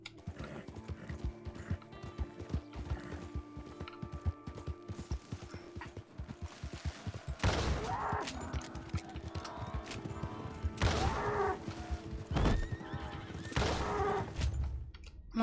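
Horse hooves clip-clopping with occasional neighing in the Red Dead Redemption 2 video game, a steady trot of game audio with louder bursts in the second half.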